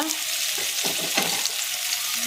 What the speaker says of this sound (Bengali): এরপর আমি ওই তেলে বাকি সবজিগুলো ভেজে নেব।